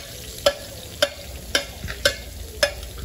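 Onions and pepper frying in a pan over a hot open fire outdoors, a steady sizzle broken by five evenly spaced sharp clinks of stirring, close and alone.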